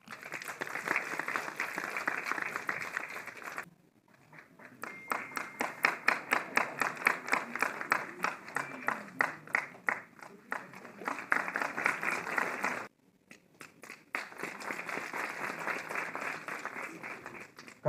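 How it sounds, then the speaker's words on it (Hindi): Audience applause for a lifetime achievement award at a Kashmir cultural festival, loud rhythmic clapping swelling in waves, with brief dips near four and thirteen seconds before resuming strongly. "जोरदार तालियां"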